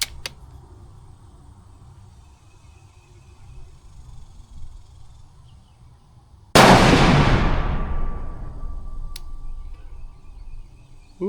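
A single loud rifle shot, the third and final round fired at a target, cracks sharply out of a quiet outdoor background and trails off into a long echoing decay.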